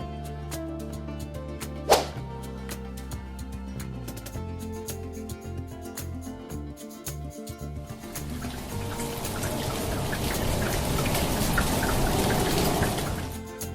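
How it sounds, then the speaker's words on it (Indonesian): Sharp crack early on over a sustained tonal bed, then a dense patter of raindrops hitting a surface grows louder and fills the rest. "Pitter merupakan suara derai air hujan di permukaan bumi"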